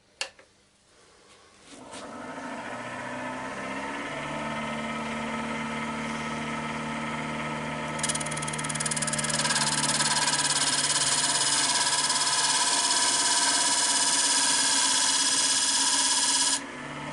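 A wood lathe turning down a tenon on a box so a walnut inlay ring will fit: a steady, close motor drone that starts after a short pause and grows brighter and louder partway through as the cut continues.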